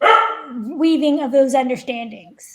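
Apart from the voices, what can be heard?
dog barking in the background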